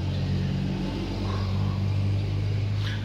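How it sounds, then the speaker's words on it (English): A truck runs behind the speaker outdoors during a robotic lawn mower's yard coverage, giving a steady, loud low engine rumble with a broad noisy wash throughout and no talk. "you hear a truck going running behind me right now"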